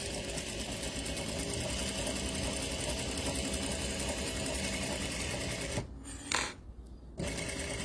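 A sewing machine stitches a quilt block in a steady, fast whirring run, close and continuous, with a short pause near the end before it resumes.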